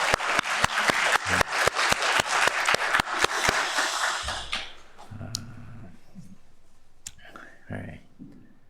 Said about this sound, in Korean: 성가대를 위한 박수가 아니라 이런 찬양을 받기 합당하신 하나님께 영광의 박수